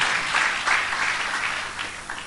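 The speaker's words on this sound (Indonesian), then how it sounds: "Tepuk tangan panjang bagi Tuhan." A church congregation at a worship service gives long applause, a continuous wash of clapping at moderate distance that runs steadily throughout and tapers slightly toward the end.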